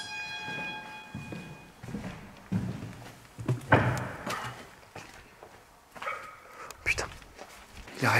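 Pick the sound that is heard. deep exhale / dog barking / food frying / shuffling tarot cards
dog barking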